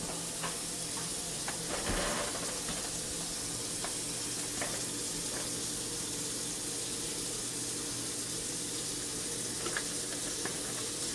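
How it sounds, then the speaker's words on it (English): A pan rinsed under a running kitchen tap while dinner is cooked at home: a steady, close wash of water hiss with faint clinks, continuous for the whole stretch, with no talking. "Let me rinse this out."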